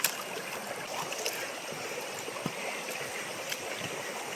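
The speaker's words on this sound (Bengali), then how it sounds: "ঝর্ণার যত পানি আছে এখান দিয়ে যাচ্ছে" Water from the Khoiyachora waterfall running through a rocky stream channel in the rainy season, a continuous soft rushing flow with a few faint knocks and splashes, moderately distant, with no voices.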